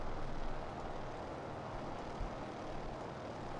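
A propeller airplane's engine drones steadily just after takeoff in a flight simulator game, a constant moderate hum with no talking over it.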